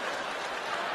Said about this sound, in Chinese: 杨胜轩也在为自己鼓掌。